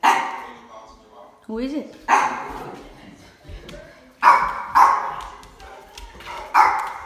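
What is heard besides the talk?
Cane Corso dog barking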